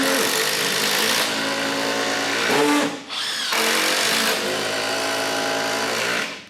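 Milwaukee M12 FUEL and M18 SURGE hydraulic impact drivers driving fasteners in quick succession, a loud continuous high-pitched whirring with a brief pause between runs, close and dominant with no talk.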